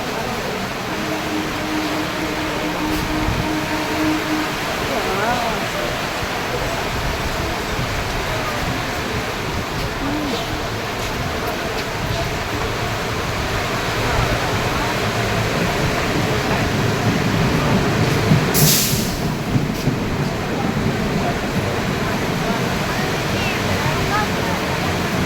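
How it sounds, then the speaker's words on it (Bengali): Heavy downpour of rain falling outdoors near a train, a steady dense hiss that stays loud throughout and swells slightly in the middle. "খুব মুষলধারে বৃষ্টি হচ্ছে বন্ধুরা"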